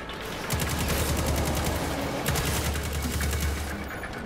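Rapid automatic weapon fire rattles continuously in Destiny 2, loud and close, with two bursts that punch in stronger partway through.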